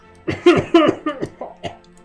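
Several short, harsh coughs in quick succession from one person nearby, the later ones weaker and trailing off.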